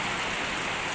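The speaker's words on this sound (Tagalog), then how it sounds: "Tuloy-tuloy pa naman yung ulan." Heavy typhoon rain pours down in a loud, steady, dense wash of noise with no voices.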